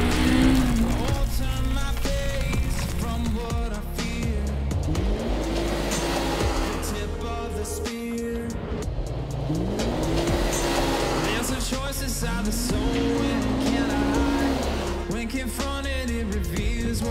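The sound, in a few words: 2023 Polaris RZR Pro R side-by-side driving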